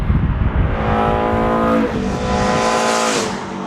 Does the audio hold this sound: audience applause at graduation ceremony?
no